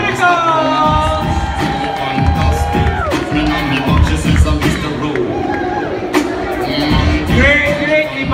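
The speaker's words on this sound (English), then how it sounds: "how about another big round of applause for AsianCutie and the Cuticles!" Audience cheering, whooping and shouting after a dance act at a live stage show, a loud continuous crowd roar with children's shrieks rising over it throughout.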